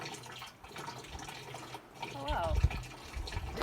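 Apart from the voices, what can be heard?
water flowing into a hydraulic ram pump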